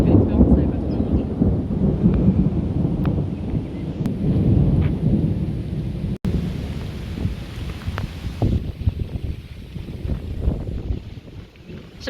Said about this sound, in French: Parce que bah l'orage arrive.